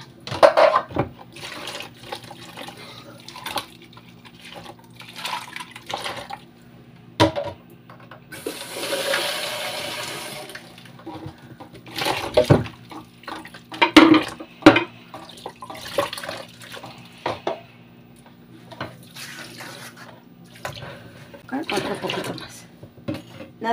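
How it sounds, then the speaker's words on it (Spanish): Water running from a kitchen tap while dishes and cleaning items are rinsed, coming in repeated bursts of flow and splashing with clinks and handling noises, plus a louder gush partway through. "Voy a enjuagar todas mis cosas para aprovechar el agua."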